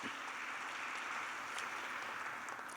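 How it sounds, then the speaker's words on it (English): Applause from a graduation ceremony audience is a faint, steady wash of many hands clapping at a distance, continuous and unbroken throughout. "Please give yourselves a round of applause"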